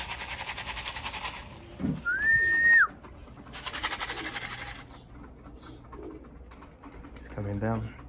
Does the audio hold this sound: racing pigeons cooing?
yes